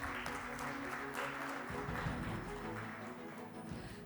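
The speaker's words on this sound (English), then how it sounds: "A huge round of applause, everyone." An audience at a business awards ceremony applauds in a steady wash of clapping that continues without a break, with faint background voices.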